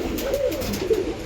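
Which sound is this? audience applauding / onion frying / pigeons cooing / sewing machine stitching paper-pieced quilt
pigeons cooing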